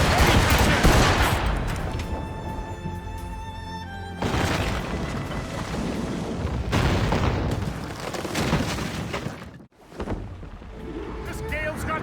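Ship cannons firing in a naval battle in Assassin's Creed Rogue, heavy booming broadside volleys in quick succession, loud and close, with shouted commands and game music layered over them.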